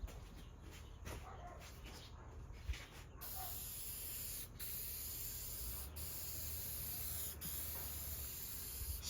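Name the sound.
spraying a coat of Zinsser Bullseye shellac on ceiling fan blades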